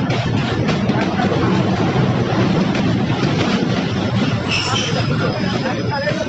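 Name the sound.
train arriving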